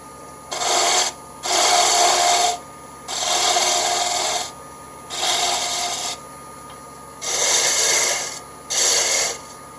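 Six separate rasping cuts of a tool against a wooden draw knife handle spinning on a wood lathe while a chamfer is turned on its end, each pass about a second long with short pauses between, loud and close over a low motor hum.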